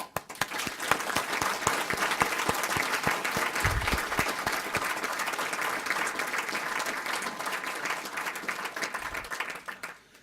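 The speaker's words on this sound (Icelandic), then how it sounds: "Ég held að við eigum að klappa fyrir því." An audience at a political meeting breaks into sustained applause, many hands clapping in a dense, even roar that holds for several seconds before tapering off to a few scattered claps.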